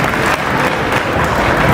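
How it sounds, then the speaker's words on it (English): Audience at an elementary school Black History program applauding elected officials, a steady, dense burst of clapping from a crowd filling the room. "Let's give them a round of applause."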